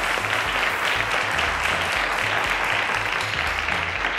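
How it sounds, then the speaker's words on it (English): Steady applause from a studio audience welcoming a contestant on the Cowbellpedia quiz show, dense and continuous throughout with faint low rhythmic music underneath. "Round of applause to Nankling."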